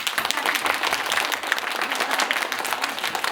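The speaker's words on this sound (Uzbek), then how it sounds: "Qani o'zlaringiz bitta qarsak chalib qo'ying" Young schoolchildren at a primary school clapping together in a dense, steady burst of applause filling the room, with little voice underneath.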